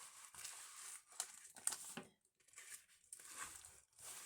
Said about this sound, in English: let's cut this open